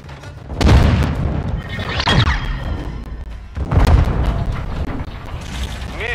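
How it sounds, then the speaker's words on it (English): In a Modern Warfare video game, a grenade goes off as a heavy, booming thud, followed a moment later by a second loud boom and some mechanical clatter, close and loud with no talk over it. "grenade!"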